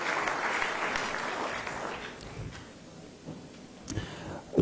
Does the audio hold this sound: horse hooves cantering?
no